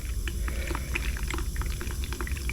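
Thin Rust-oleum Turbo Sunrise Red paint pouring from a can, a close, steady liquid glugging with bubbly gurgles and small splashes over a low hum.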